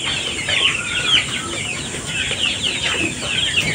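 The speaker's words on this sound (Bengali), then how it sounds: "এই যে এটা দেশি মুরগি, বড় মুরগি আর হয়তো মাসখানেকের মধ্যে ডিম দিবে।" Desi hens at a poultry farm give off a steady background of soft clucks and chatter, with several birds calling over one another throughout.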